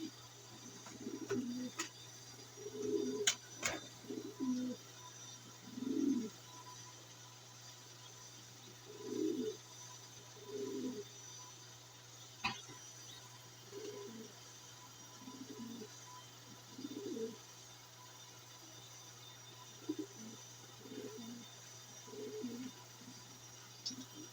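Pigeons cooing in a loft, soft low repeated coo phrases at irregular intervals, fairly distant and quiet over a steady background hum, with an occasional sharp click.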